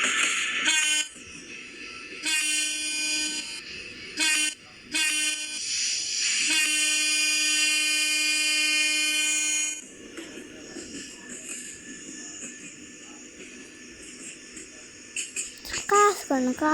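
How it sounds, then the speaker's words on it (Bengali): A long Intercity Express passenger train passes nearby with sustained, blaring horn blasts and then a rumbling rattle of carriages. Short voices break in at the end. "কি লম্বা ট্রেন রে বাবা।"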